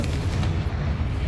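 A Confringo fire spell blast in the Hogwarts Legacy video game, a dense, booming, explosive rumble that holds steady and loud through the short clip.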